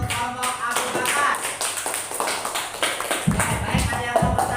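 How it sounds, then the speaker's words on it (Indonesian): Students in a classroom clap for the Abu Bakar group, a burst of close, uneven hand claps that runs under a voice speaking throughout. "kepada tepuk tangan untuk kelompok Abu Bakar"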